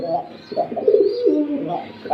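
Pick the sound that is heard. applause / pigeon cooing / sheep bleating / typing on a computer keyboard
pigeon cooing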